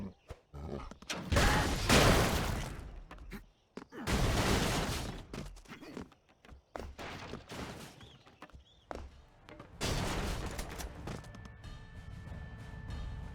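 Bursts of video game gunfire in Broforce, loud stretches of rapid shooting with crashes and smashes, broken by short quieter pauses.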